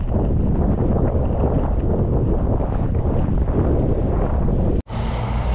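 Strong headwind roars across the microphone of a cyclist riding a long road route in rain, a loud, continuous buffeting rush that briefly drops out near the end.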